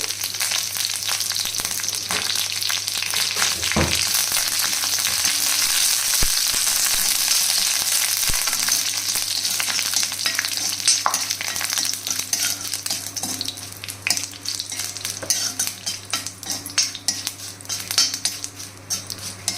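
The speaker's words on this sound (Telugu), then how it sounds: "ఇప్పుడు 5-6 ఎండుమిరపకాయలు వేసుకోవాలి. అది కొంచెం కరివేపాకు కూడా వేయాలి." Five or six dried red chillies and curry leaves frying in two to three spoons of hot oil, a steady close sizzle with occasional crackles and spoon clinks against the pan throughout.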